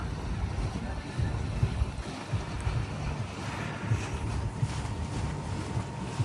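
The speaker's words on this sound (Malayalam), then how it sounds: "ഇതാണ് ബോട്ട് സ്റ്റാർട്ട് ചെയ്യുന്നത്." A dhow cruise boat off Dubai gets under way with a low, steady engine rumble mixed with water wash and wind buffeting the microphone, continuous and close.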